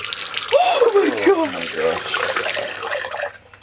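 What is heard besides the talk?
tap water running into a sink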